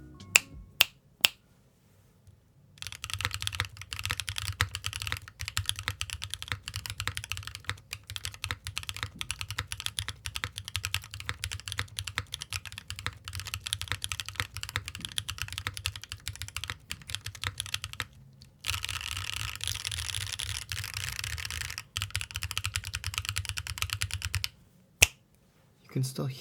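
Typing on Moyu Studio Hera JWK mechanical keyboard switches gives dense, rapid clacky keystrokes in long bursts, broken by a few short pauses and isolated single presses, close and alone.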